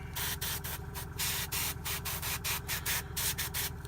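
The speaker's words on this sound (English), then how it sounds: "I had somebody ask me a question the other day about the feathering with the airbrush." An airbrush sprays paint onto tabletop gang miniatures in quick, repeated bursts of hissing air, close and steady, with brief pauses between passes and no voices.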